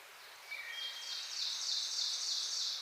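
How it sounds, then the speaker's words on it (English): An ovenbird singing in woodland along the Appalachian Trail, a series of bright, rising repeated phrases, fairly faint and a little distant, building in strength over a quiet background. "You hear that ovenbird back there?"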